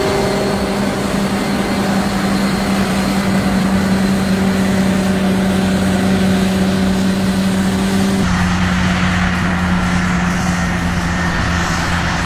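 A large combine harvester works through a wheat field, giving off a loud, steady mechanical drone with a constant engine hum that shifts tone partway through.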